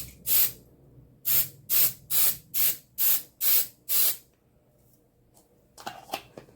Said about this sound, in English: going to spray a little bit of this hairspray